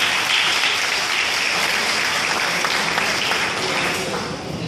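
A graduation audience at P.S. 329 breaks into sustained applause for the teachers. The clapping stays full and close, then eases slightly toward the end.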